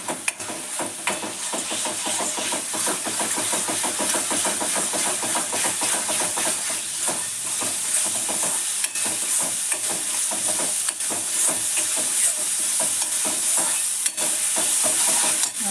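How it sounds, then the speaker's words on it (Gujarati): Green chili garlic paste sizzles and fries steadily in a hot pan for jhinga, a dense continuous hiss that stays loud and even throughout, with faint scraping of stirring. "આપણે આ લીલા મરચાં લસણની પેસ્ટ છે એને પણ એડ કરીને એને પણ 2 મિનિટ સાતળવા દઈએ જરા."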